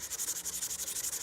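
Wood is rubbed by hand with 400 grit sandpaper in quick, even back-and-forth strokes, a soft close scratching that keeps a steady rhythm.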